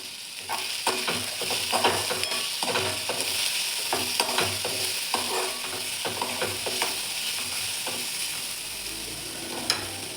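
Finely chopped cabbage, tomato and coriander being stirred in a sizzling pan for a potato dish, with a steady hiss and repeated scraping strokes of a spoon throughout, fairly close and alone.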